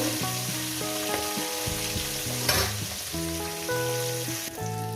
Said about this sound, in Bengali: আর তিন টুকরো আছে মাছের মাথা ওগুলো একেবারে ভেজে নিই